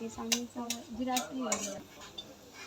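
Tilapia fish curry with potatoes and yardlong beans sautéing in a pan, a spoon scraping and clinking against the metal in repeated strokes, with a soft sizzle underneath and a voice briefly speaking.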